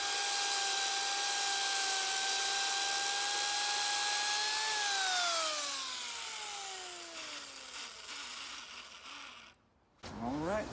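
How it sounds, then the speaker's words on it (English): A very small chainsaw runs steadily at high revs while cutting ice, a sustained loud whine that drops in pitch as the blade bogs into the cut, then briefly stops and revs back up. "Notice I'm using a very small chainsaw."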